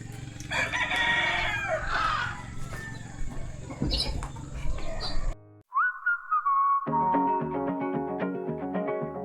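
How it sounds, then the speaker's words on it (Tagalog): Roosters crow loudly over a noisy farmyard with clucking chickens in rural Philippine countryside, then a long high crow rings out after a brief pause. "Ayan yung mga manok"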